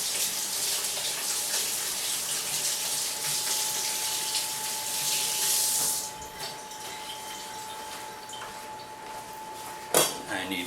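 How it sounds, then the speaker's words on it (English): Water runs steadily from a kitchen tap as hands are rinsed mid-way through seasoning Greek souvlaki skewers, a continuous broadband hiss that eases off after about six seconds, followed by a brief clatter near the end. "I'm going to rinse my hands off"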